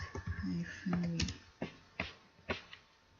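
Brief keystrokes on a computer keyboard as a short command is typed, a cluster of quick clicks then a few spaced single taps, close and fairly quiet.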